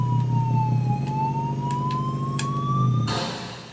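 Two ambulance sirens wail in the Commodore 64 racing game Motor Mania, a synthetic tone sliding slowly up and down over a droning engine hum, ending in a sudden burst of noise.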